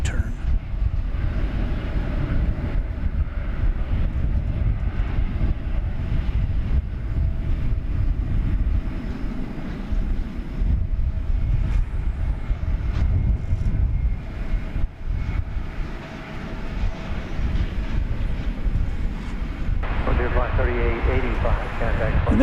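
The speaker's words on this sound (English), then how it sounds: "London-bound plane taking off from right in front of us." A London-bound passenger plane takes off at DFW airport, its jet roar a broad, sustained rumble that stays loud throughout while people talk over it.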